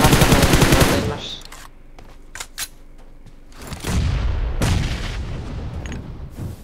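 Automatic gunfire in the PUBG Mobile shooter, with a dense burst of rapid shots at the start, then scattered sharp single cracks, and more firing and action noise toward the end.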